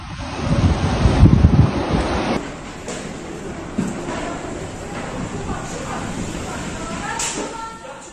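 Storm surge waves crash and roar along the Turkish coast under strong southwest wind, a heavy broadband rush that swells loudest early on and then settles into a steady blustery wash with wind buffeting the microphone.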